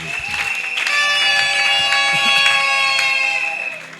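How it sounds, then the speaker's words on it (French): A church congregation applauds and cheers in a loud, sustained burst of clapping and voices, rising and then fading toward the end, with a tonal hum running underneath. "Acclamons pour la gloire de notre Dieu"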